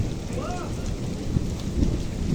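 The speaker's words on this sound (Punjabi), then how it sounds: "ਤਕੜਾ ਹੀ ਪੈ ਰਿਹਾ ਮੀਂਹ ਬਈ" Heavy rain pours down steadily, a dense, continuous hiss close by, with no voices heard.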